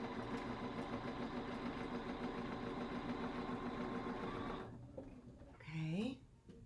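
A sewing machine stitching over a quilt block, a steady close mechanical whir with a rhythmic buzz running for several seconds before cutting off, followed by a brief voice.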